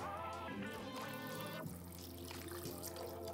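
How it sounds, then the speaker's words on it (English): Water poured into a pot of chicken stock, a steady close trickle and splash of liquid, quiet and unbroken. "And then I just like to top this up with some water."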